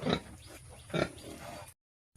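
Yorkshire-breed pigs on a pig farm in Assam give two short, husky grunts close by, followed by quiet shuffling, then a sudden cut to silence.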